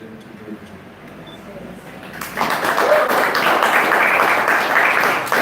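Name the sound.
applause from audience at school event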